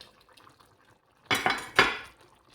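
Diced potatoes tumble into a simmering pot of carne guisada, two close clattering splashes of chunks hitting liquid and metal after a quiet, faintly bubbling lead-in.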